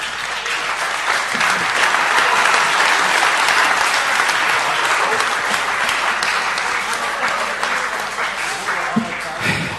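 Sustained applause from a large audience at a panel event on copyright law, a dense steady wash of clapping that stays loud and even for the whole stretch, with faint voices mixed underneath.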